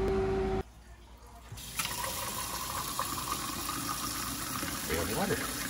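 Steady broadband rush of water running from a tap, starting abruptly after a brief quiet stretch and continuing loud and even, with faint voices in the background.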